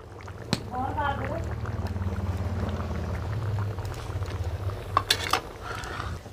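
A thickened potato and elephant foot yam curry simmering in a pot in a rural Punjabi village kitchen, giving a soft steady bubbling with a few utensil clinks toward the end while a person talks over it.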